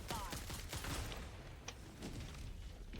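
Suppressed SMG fire in the Helldivers 2 video game comes as quick, muffled bursts of sharp shots, fairly quiet and spread through the moment, with a brief ringing note in the middle.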